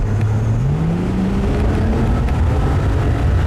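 A 2017 Porsche 911 Carrera Cabriolet with an 8-speed dual-clutch automatic drives at steady speed, a continuous low engine drone rising slightly in pitch over road and wind noise, with no talking.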